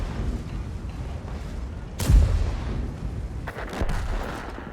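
A tank cannon blast in World of Tanks, one loud, sharp boom with a rumbling tail that rises out of steady battle ambience, followed by fainter crackling impacts.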